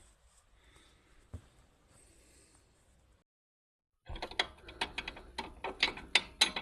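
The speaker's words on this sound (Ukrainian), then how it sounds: "тепер я беру, закручую тут зверху ключ на 12, а знизу ловка на 12" A wrench tightens a suspension bolt on a Daewoo Lanos 1.6 during ball joint and stabilizer link replacement, giving a brisk run of metallic ratcheting clicks after a faint, quiet lead-in and a short silence.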